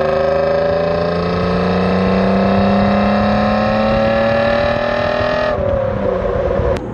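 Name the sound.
Alfa Romeo V6 engine exhaust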